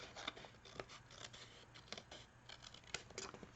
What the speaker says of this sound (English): I usually like to do this with the larger scissors